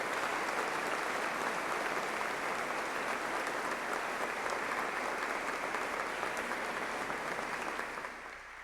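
A church congregation applauds the Monsignor with loud, sustained clapping that holds steady for several seconds before tapering off at the very end.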